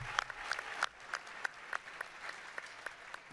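Audience applause at QuakeCon 2018 during a Fallout 76 showing: a crowd clapping steadily with sharp, closely spaced claps, moderately quiet and heard without talk.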